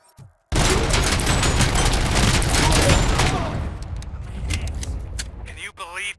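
Sustained heavy gunfire in the RoboCop: Rogue City video game, a dense fusillade of rapid shots that roars continuously for several seconds, then thins into scattered bursts and mechanical clatter near the end.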